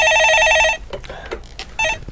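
Telephone bell ringing for an incoming caller on a Korean stock-market call-in radio show, a loud steady electronic trill lasting under a second, then quieter studio noise and a second short burst of ringing.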